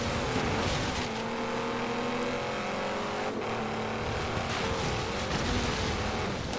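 A BMW engine roars steadily in the Forza Horizon 3 racing game, a continuous loud drone with shifting pitch and no pauses.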